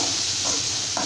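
Bitter gourd being sautéed in a pan for a tamarind curry, giving a steady hiss of frying with soft stirring scrapes, close and continuous with no talking.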